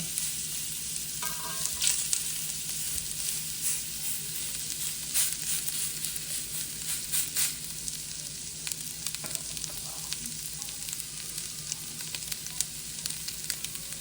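A ribeye steak being reverse seared sizzles steadily in a hot pan, close up, with a continuous crackle and occasional brighter spits and pops.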